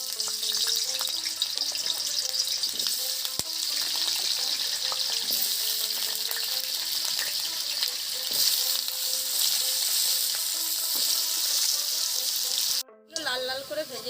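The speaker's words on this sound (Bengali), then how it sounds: "আলুগুলো কেটে ধুয়ে নিয়েছিলাম, এবার আমি ভাজার জন্য তুলে দিচ্ছি।" Cut and washed potatoes fry in mustard oil in a pan, giving a steady, loud sizzle and crackle for the whole stretch, with a brief dip in the sound near the end.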